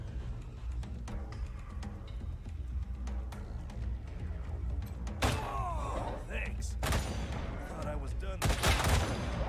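Automated turrets fire bursts in the video game Wasteland 3, rapid gunfire volleys and thuds building toward the end, loud and close, with scattered in-game effects and a voice speaking.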